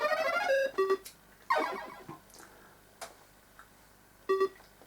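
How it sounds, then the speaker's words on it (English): Commodore 64 game Ninja Scooter Simulator plays sharp electronic beeps and bleeps in short repeated bursts against a quiet background. Simple blip and descending chirp effects are mixed in. "an annoying sort of beeping sound in the background, which seemed a bit unnecessary"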